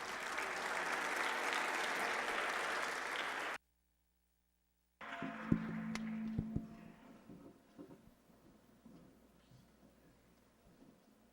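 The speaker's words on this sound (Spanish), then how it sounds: "recibámoslos con un fuerte aplauso," Applause from a security symposium audience welcomes a speaker, a burst of dense clapping that cuts off, then resumes and fades to scattered claps and light room noise.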